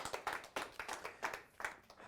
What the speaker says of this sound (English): A big round of applause for Candace.